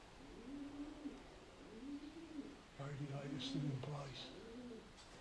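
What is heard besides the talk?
pigeons cooing in derelict workhouse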